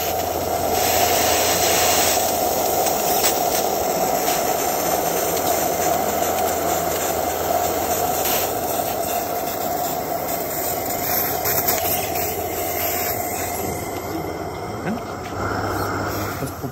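Regner live steam model locomotive 99 633 driving slowly with cylinder drains open, giving a steady, continuous hiss and rushing steam noise close by, with a faint low rumble and no talking.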